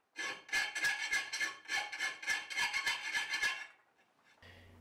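Hand file rasping over a steel machete blade in no-power-tool blade making, a fast run of steady back-and-forth strokes, close and loud for about four seconds before stopping.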